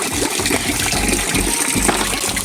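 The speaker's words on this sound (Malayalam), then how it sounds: "അപ്പോൾ നമുക്ക് ബക്കറ്റിൽ ഒരു അരപാത്രം വെള്ളം കോരി വെക്കാം" Pond water is scooped into a bucket beside a fish farm, a continuous close gush and slosh of pouring water with rhythmic surges, heard alone without any talking.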